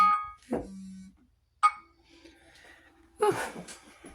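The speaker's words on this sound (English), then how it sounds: "my alarm's going off." A phone alarm goes off indoors, sounding in short tonal bursts with pauses between them, fairly close and clear, with no talk over it.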